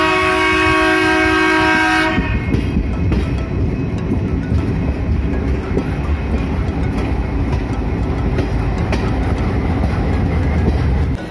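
A train at Mughal Sarai (Deen Dayal Upadhyaya) railway station sounds a long horn, then rumbles and clatters loudly and continuously along the tracks nearby.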